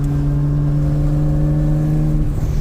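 A Nissan R32 Skyline GTS-T's engine drones steadily while driving, with a strong low hum and a few faint harmonics holding nearly constant. The pitch dips briefly near the end.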